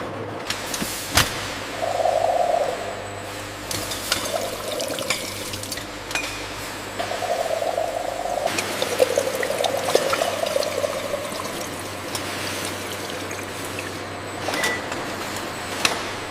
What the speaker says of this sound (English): bottles invert and are rinsed with filtered water before filling